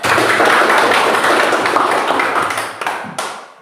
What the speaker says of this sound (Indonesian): Tepuk tangan untuk seluruh anggota kelompok